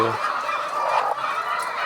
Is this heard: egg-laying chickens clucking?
yes